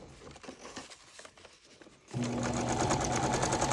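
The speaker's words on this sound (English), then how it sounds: "I'm going to sew it in a curve on here" After a couple of seconds of quiet paper rustling, a sewing machine starts stitching a curve on a paper junk journal page and keeps running with a steady, close, rapid whir to the end.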